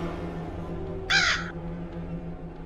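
A single harsh crow caw rings out once, close and loud, over a low droning ambience in a scary horror video game.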